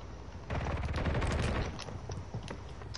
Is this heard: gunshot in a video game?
yes